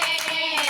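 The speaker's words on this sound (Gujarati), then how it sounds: "તાળી પાડો" Brisk hand claps keep time during a Gujarati devotional song to the goddess Randal Maa. A few quick, close claps ring over a sustained tonal vocal line.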